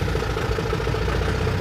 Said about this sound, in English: this has got to be one of the noisiest diesel engines I've come across in a long time